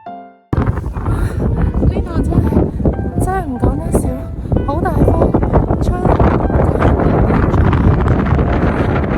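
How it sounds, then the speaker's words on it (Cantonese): Strong gusting wind roars across the microphone at a Swiss mountain summit in loud, continuous bursts, with people talking intermittently underneath. "當我哋行到頂峰嘅時候呢，真係超大風啊！"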